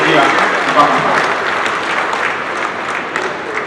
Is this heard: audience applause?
yes